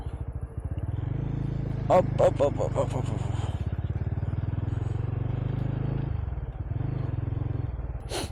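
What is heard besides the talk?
motorcycle riding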